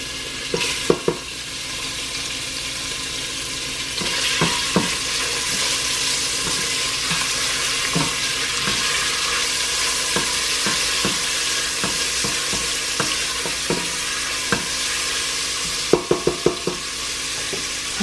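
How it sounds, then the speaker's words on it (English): Bacon fries in a pan with a loud, steady sizzle and crackle throughout. Occasional clicks and knocks of a utensil stirring against the pan sound close by, and no one speaks. "you want your bacon to cook to a nice"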